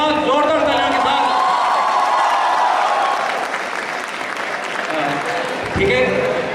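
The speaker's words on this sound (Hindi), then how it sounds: "एक बार जोरदार ताली और हुटिंग के साथ, जोरदार तालियों के साथ" Loud applause with cheering and whoops from a college freshers' function audience, honoring the founder chairman, sustained for several seconds before thinning slightly toward the end.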